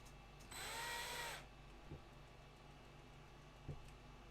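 A big power drill bores into a resin model kit in one loud, steady whine lasting under a second, followed by a few faint knocks and handling taps in a quiet room.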